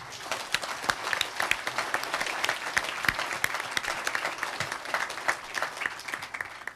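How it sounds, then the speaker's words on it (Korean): Audience applause at a political party founding convention, a dense, continuous round of clapping from a large hall crowd, with individual claps standing out against the steady wash. "진심으로 감사와 환영의 박수를 드리겠습니다."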